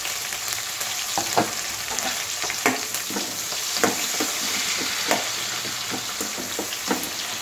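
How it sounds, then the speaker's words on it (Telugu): Onions, curry leaves and green chillies fry on high heat in a pan with a little fenugreek flour, giving a steady close sizzle broken by scattered sharp crackles and spatters. "హైలో పెట్టేసుకొని వేపుకోండి"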